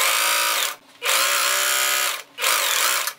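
A sewing machine stitches the strap of a summer top in three loud, close bursts with brief pauses between them, and no voices.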